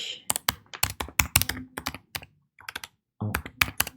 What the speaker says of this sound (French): Donc ici on va taper